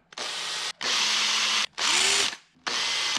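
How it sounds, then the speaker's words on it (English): Four bursts of a high-pitched countersink drill whirring as it deburrs holes, each lasting under a second, separated by brief pauses, close and loud. "I use a countersink drill and I just quickly give it a bit of a"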